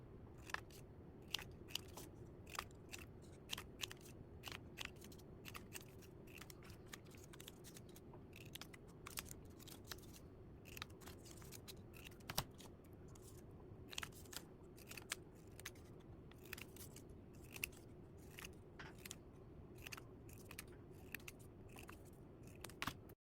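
Scissors cut out paper shapes for a classroom craft activity in a quiet room, a steady series of crisp snips and paper crunches repeating throughout.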